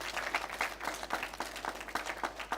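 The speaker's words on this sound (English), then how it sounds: "Can we welcome him with a big round of applause?" An audience at a school quiz final claps to welcome a guest, a lively round of applause with distinct individual claps pulsing throughout, fairly close and moderately loud.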